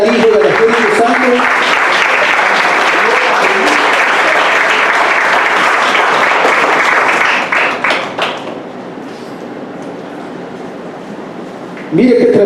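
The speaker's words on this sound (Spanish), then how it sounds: "cuánto le regalan palmas al Padre, al Hijo y al Espíritu Santo?" Church congregation applause during a Spanish-language sermon, loud sustained clapping that fades out after about eight seconds, leaving a quiet room before a voice returns at the end.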